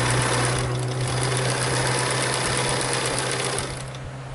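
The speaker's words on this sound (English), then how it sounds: "I'm going to sew along my line." A sewing machine that sometimes skips stitches runs along a marked line on fabric for a butterfly net, giving a steady close whirring hum that eases off slightly at the end.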